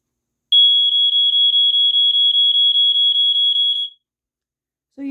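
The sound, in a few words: Montgomery Ward smoke detector alarm, BRK pulse pattern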